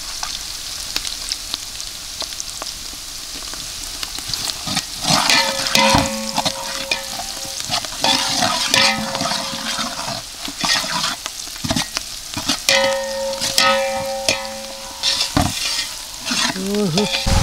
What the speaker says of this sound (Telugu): మంచిగా జర మాడిపోకుండా మంచిగా కలుపుకొని దూరగా వేపాలి